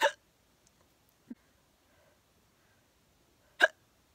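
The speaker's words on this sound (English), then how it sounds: "Oh no, here come the hiccups." A woman's hiccups, three sharp isolated bursts spaced over a few seconds, the first and last loud and close, the middle one softer, with near silence between.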